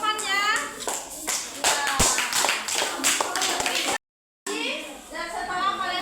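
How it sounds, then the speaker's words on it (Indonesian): Classroom applause for a classmate: a burst of many hands clapping in a lively room with children's voices, a brief dropout, then scattered clapping and chatter continuing. "Oke, beri tepuk tangan untuk temannya."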